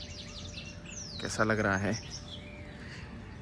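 Small birds chirp and tweet in quick bursts in the background at an ashram by the Narmada River in the morning, while a person speaks briefly over them.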